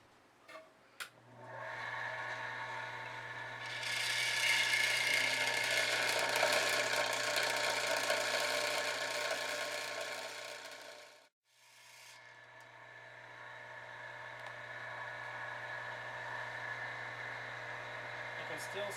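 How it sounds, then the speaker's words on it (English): A grinder grinds low spots off an agate stone sphere with a steady, loud whirring rasp that holds for several seconds, briefly drops out, then resumes under a continuous low hum. "we're going to go right back to the grinder and grind those low spots out and get rid of them"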